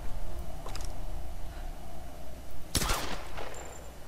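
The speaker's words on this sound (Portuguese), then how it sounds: "a gente pega a pistola e atira ali" A pistol fired in the Tomb Raider game, one sharp close gunshot with a brief ringing tail against low background game ambience, preceded by a fainter earlier report.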